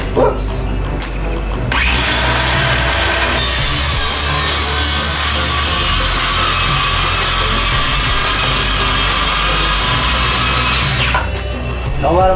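A metal part for a go-kart seat being cut in a metal shop, with a steady, loud, continuous grinding-sawing texture running for most of the stretch, bracketed by brief handling noise at start and end.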